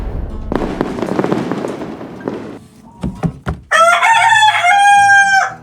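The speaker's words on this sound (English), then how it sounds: "By the rooster's crow." A rooster crows loudly and close by, a long harmonic call in the last two seconds, following a few sharp bangs and a burst of rustling noise in a backyard chicken coop.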